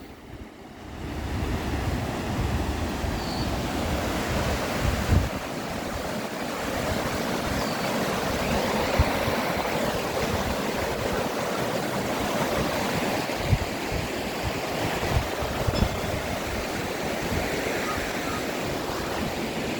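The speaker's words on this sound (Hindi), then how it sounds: "चलिए अब आपको ले चलते हैं नदी के पास, उसकी कल कल की आवाज़ सुनिएगा" A river near Garjiya in Ramnagar, Uttarakhand rushes over stones in a steady, continuous broadband wash of flowing water that stays loud and close throughout, with no talking.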